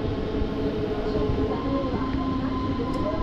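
A Mumbai local train rumbles steadily as it slows down, with continuous close rail noise and a few faint tonal squeals. No talk is heard.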